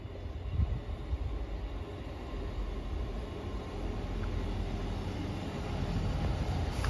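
ScotRail passenger train pulling into Dalmeny station, a steady low rumble and rolling wheel noise heard from the platform, constant and fairly loud throughout.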